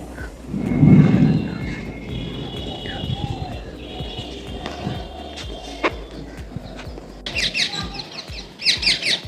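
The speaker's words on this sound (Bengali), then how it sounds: "টিয়া পাখি ডাকছে গাছ থেকে" Shrill, chattering parakeet calls come in short bursts from a distant tree toward the end, over faint outdoor background noise under a cloudy sky and a low cooing earlier.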